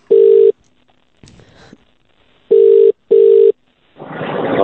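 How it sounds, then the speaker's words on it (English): A telephone line produces steady dial tone bursts separated by short gaps and a faint dialing click, ending in a rising rush of line noise, with no talking. "dialing him up now."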